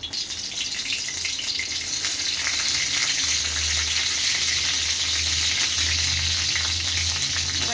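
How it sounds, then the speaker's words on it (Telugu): Green chillies fry in a little oil for a peanut-coconut chutney, giving a loud steady sizzle and crackle throughout, with faint clatter underneath. "ఫస్ట్ నూనె పోసుకొని కొంచెం నూనె పోసుకొని పచ్చిమిరపకాయలు వేసుకోవాలండి"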